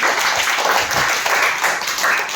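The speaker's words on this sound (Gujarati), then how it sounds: "આ લોકો મને તાળી પાડો એકવાર" A classroom of primary school children clapping together in a quick, loud burst of rapid, overlapping claps lasting a couple of seconds, close and fairly full, with faint voices underneath.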